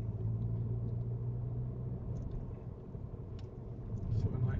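A Ford Focus ST Mk4 drives along a road toward Dartmoor, its low engine rumble and tyre roar steady from inside the cabin, rising slightly near the end, with people talking over it.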